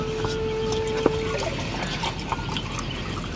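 Steady rain and running water in a mountain village, a broadband wash with a few drips and a brief high tone near the start, continuous throughout.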